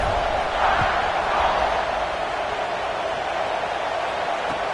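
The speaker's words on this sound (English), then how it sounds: "this crowd is buzzing after that last score" A college football stadium crowd at a Notre Dame versus Alabama game buzzes after a score, a dense, steady roar of many distant voices with no single speaker standing out.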